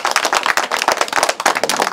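A group of people clapping quickly and continuously in a short burst of applause during a street vox pop.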